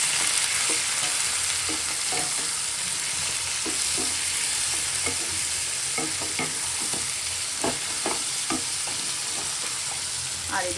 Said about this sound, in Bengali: এই যে রান্না বসিয়ে দিয়েছি, পেঁয়াজ ভাজছি, একটু মাছের তেলটা ভাজবো।